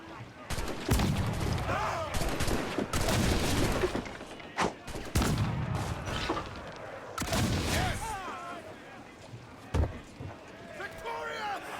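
Cannon fire and gunshots from a pirate ship battle in Assassin's Creed Black Flag, repeated loud broadband blasts spread through the stretch over crew shouting and music, with talk throughout.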